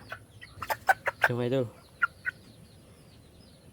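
A crossbred chicken, labuyo jungle fowl mixed with a native Tagalog hen, gives a quick run of sharp clucks and one drawn-out throaty call, close by, while someone speaks briefly.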